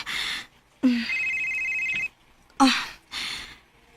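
A telephone rings in a radio drama, its bell sounding in four bursts of two short and two longer rings.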